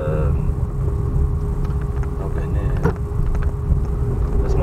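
Car engine and road noise inside the cabin while driving, a steady low rumble with a faint hum, continuous and moderately loud, with light talk over it.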